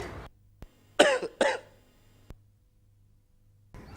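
Two sharp coughs in quick succession break an otherwise quiet room, preceded by a faint click and followed by a brief thump, near and distinct.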